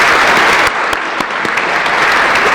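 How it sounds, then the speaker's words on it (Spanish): Loud, sustained applause from a symposium audience on perinatal health honouring a professor, dense clapping that carries on through the whole moment. "profesor Miguel Margulis, para quien pido un aplauso"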